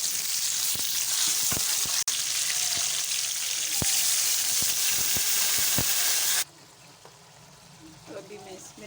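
Green garlic and tomatoes fry in a pan for a potato and pea curry, a steady loud sizzle with sharp pops and crackles that drops abruptly to a quieter simmer near the end.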